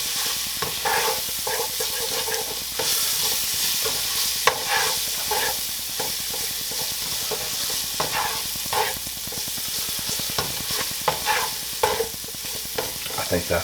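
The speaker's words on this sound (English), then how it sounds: "just stir this around here for a few seconds. We don't want the garlic to brown" Garlic and oregano sizzle steadily in a hot pan for shrimp fra diavolo, with a continuous bright hiss broken by repeated scraping stirs of the utensil, close and loud, with no talking.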